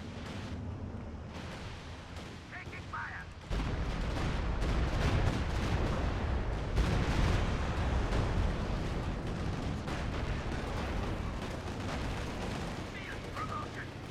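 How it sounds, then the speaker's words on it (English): Artillery fire booms in a 4v4 Company of Heroes 2 battle on La Gleize, with dense rumbling blasts and gunfire that swell loud partway through and continue under a commentator's voice. "Also artillery fire in the back."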